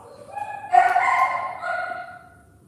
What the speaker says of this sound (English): listen at this dog.